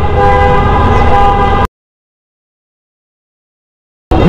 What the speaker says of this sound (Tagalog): Ikaw yung bumubusina?